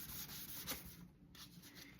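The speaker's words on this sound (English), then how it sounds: "this stuff sands really easily, but you do have to remove the dust periodically" Sandpaper rubbed over a guitar's lacquer finish gives a steady, close, quiet scratchy rasp with repeated back-and-forth strokes and no voices.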